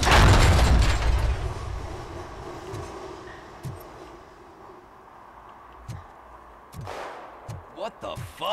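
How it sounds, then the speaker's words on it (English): Gunfire in the video game Robocop: Rogue City: a loud burst at the start, then scattered sharp distant shots over a low ambient rumble. "I hear gunshots."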